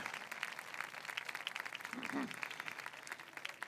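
Audience applause at a medieval-week troubadour evening in Montblanc, a steady crackle of clapping held for about four seconds, moderately distant and fairly soft, with a brief voice-like murmur partway through.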